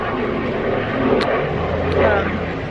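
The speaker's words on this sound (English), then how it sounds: "I'm gonna pause for that airplane." An airplane passes overhead above a Los Angeles apartment complex, a steady broad drone sustained throughout, with a voice faintly present alongside.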